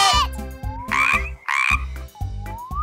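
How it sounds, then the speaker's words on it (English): Cartoonish frog croaks from the video game Kingdom, repeated in a bouncy rhythm of about five loud croaks with rising tonal swoops, set over a steady background music beat. "Kids, do you know which animal goes croak?"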